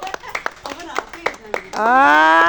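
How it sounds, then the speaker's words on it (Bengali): Children clap their hands at a traditional Bengali game; a run of sharp, uneven claps ends in a sustained voice as the group cheers along close by. "এই তোমরা হাতে তালি দাও, হাতে তালি দাও, হাতে তালি দাও।"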